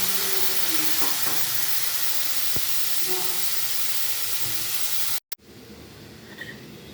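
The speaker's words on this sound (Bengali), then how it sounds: "আগে থেকে পেস্ট করা সর্ষে পোস্ত বাটাটা কড়াইতে ঢেলে দিতে হবে।" Mustard and poppy seed paste frying in a wok gives a steady broadband hiss and soft sizzle, briefly cut off before resuming more quietly.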